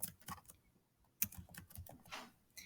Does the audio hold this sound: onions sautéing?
no